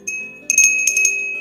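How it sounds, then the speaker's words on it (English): A vintage hand bell is rung in a few quick bright rings, clear and close, with a sustained metallic ring that lingers between strokes; no one talks. "Sounds like a bell."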